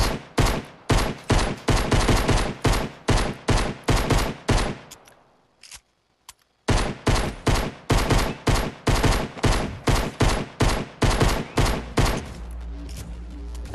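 Rapid, evenly spaced gunfire from a gun in Fortnite, loud and close in long regular bursts, with a brief pause midway before the shooting resumes, and no talking.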